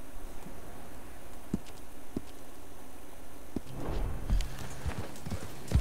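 Horse hooves clip-clop on the ground in the Red Dead video game, scattered single steps at first, then a denser cluster of footfalls near the end over a low ambient hum.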